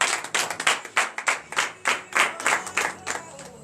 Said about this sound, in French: Et donnez-vous l'acclamation de son Jésus.